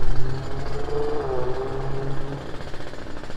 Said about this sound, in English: so far it seems pretty smooth, no more fluctuating idle